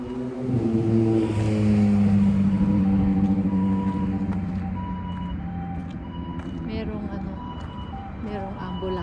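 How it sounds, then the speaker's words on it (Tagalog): An ambulance siren passing along a street in Japan, loud and wailing over steady traffic noise, then fading as it moves away. "Merong ambulansya."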